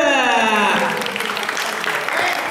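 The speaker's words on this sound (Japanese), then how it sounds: "B-BOY 浩平、拍手。" Crowd at a b-boy breakdance battle final claps and cheers for a dancer, starting under a fading voice and sustained tones, then a loud, dense burst of clapping fills the rest.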